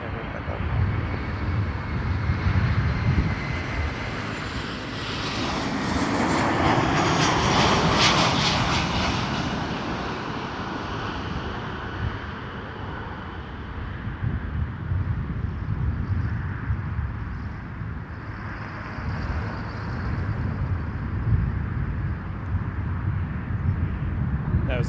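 A passenger jet taking off from runway 05 at Toronto Pearson Airport, its engines roaring loud and sustained for the whole span and swelling to a peak midway, with radio voices talking underneath.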